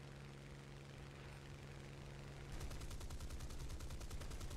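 Spitfire Mk Vc guns in War Thunder open up in a rapid, evenly pulsed burst over the steady drone of the aircraft engine, loud and close.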